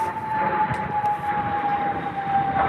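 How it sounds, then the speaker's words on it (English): Large airplane passing overhead outdoors: a continuous broad engine roar with a steady drone tone running through it, fairly loud and sustained throughout, with no speech. "Big old airplane flying over."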